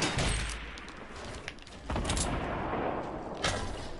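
Sniper rifle shots in a shooter game, a few sharp booming cracks with rumbling tails over steady background noise, one near the start and others later.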